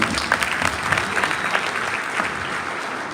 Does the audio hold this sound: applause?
yes